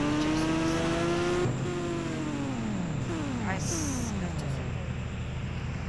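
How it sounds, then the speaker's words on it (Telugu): A motorbike in a bike-driving video game revs hard, its engine note climbing and then dropping through several falling sweeps, loud and close, with a voice talking over it. "వెళ్ళిపోదాం చూసుకొని బైక్ స్టార్ట్"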